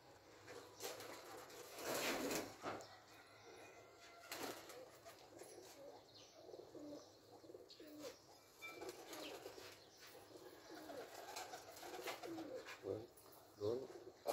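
Pigeons coo softly on and off with occasional wing flaps on a rooftop, faint and somewhat distant, amid light background noise.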